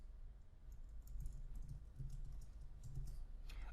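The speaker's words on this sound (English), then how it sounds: "I'm going to type neighbor count" Quiet, steady typing on a computer keyboard, a fast run of soft key clicks with no talking.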